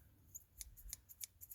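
Good scissors trim hair in a home haircut, giving several quick, crisp snips in an uneven rhythm. They sound close and faint, with no talk.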